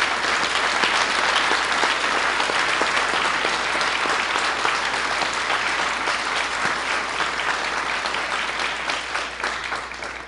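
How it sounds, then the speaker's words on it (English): Audience applause fills the hall at a 2010 LBCC Hall of Fame induction ceremony for the honorees, a dense, sustained roar of many clapping hands that holds steady and fades slightly toward the end. "Please join me in giving our honorees one more round of applause"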